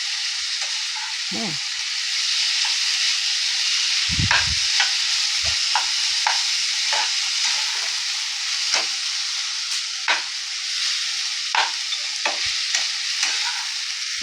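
Potatoes frying in a pan, a loud continuous sizzle broken by repeated scraping strokes of a spoon stirring them, with a brief word spoken once.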